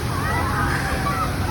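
Fountain water splashes steadily onto small children outdoors in a busy downtown Chicago setting, a continuous close wash of sloshing water with faint crowd babble underneath.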